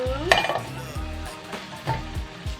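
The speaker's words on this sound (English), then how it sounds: "I'm gonna add the tofu pieces. Make sure that the olive oil goes underneath the tofu." Tofu pieces fry in olive oil in a pan, a soft sizzle under a few clinks and scrapes of a utensil stirring, fairly close.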